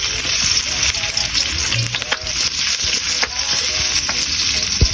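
Onion and tomato frying in a pan for a fish dish, with a loud, close sizzle and intermittent scraping and clinking as the pan is stirred.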